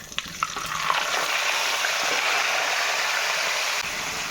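Spice-marinated mutton fries in oil with bay leaves, dried chillies and whole garam masala, a loud, dense, continuous sizzle up close with a few scraping spatula strokes near the start.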